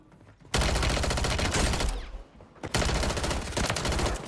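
Gunfire in the Warzone video game: two loud, dense bursts of rapid automatic shots, close by, with a short lull between them and no talk over the shooting.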